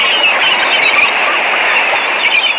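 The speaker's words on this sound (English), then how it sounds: "Screak of gulls calling down." Gulls call by the ocean in a string of shrill, squealing cries over a steady wash of background noise, close and fairly loud throughout.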